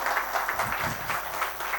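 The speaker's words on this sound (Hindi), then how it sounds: "इनके लिए एक जोरदार तालियां।" An audience at a business seminar claps in steady, continuous applause, moderately loud and a little distant, with no talking over it.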